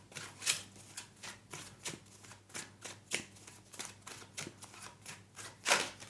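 Tarot cards being shuffled back into a deck, a steady run of crisp, close papery snaps and riffles repeating roughly every half second, with one sharper burst near the end and no voices.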